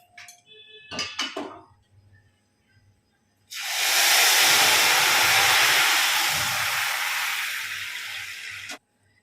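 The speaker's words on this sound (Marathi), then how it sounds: "यामध्ये आपण जे गरम पाणी केलेलं आहे ना तर ते टाकून घेऊयात" A few light clinks of a pot come first. Then hot water hits roasted broken-wheat lapsi in a hot pan and sets off a loud, rushing hiss of steam that lasts about five seconds and cuts off sharply.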